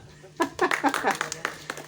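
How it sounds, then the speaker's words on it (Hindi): A small rural gathering gives a round of applause for Sundar bhai, scattered moderate clapping that starts abruptly and trails off, mixed with a few voices talking. "सुंदर भाई के लिए जोरदार तालियां।"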